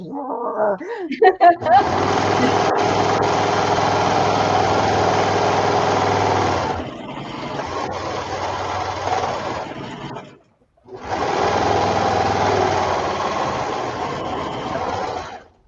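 A serger sewing machine runs loud and steady in two long bursts separated by a brief pause, its rapid mechanical whir close to the microphone.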